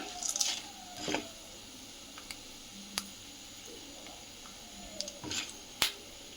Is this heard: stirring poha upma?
yes